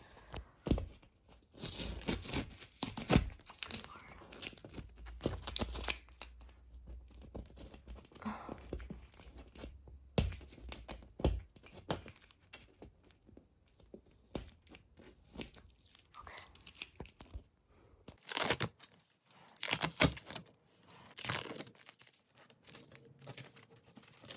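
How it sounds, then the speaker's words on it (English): Strips of blue painter's tape are peeled off a ceiling during a renovation, giving close, rough tearing and crinkling in irregular bursts with quiet gaps between pulls. "So I'm going to remove this blue painter's tape that we originally had marked."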